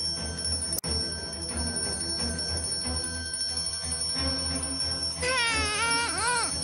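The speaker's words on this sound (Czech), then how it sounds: "Cinky-linky-linky, pokazil se zvonek?" A broken doorbell gives a jangly, tinkling ring over steady background hum, with a sharp click early on and a wavering, warbling chime near the end.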